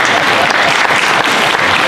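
Audience applause at an annual concert in Kotor, steady dense clapping filling the room throughout, loud and continuous with no voices standing out.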